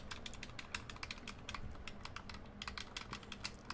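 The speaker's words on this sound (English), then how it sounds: "Beautiful sounds of an Xbox controller." Xbox controller buttons click rapidly and continuously during gameplay, a dense close-up patter of plastic taps with no voices.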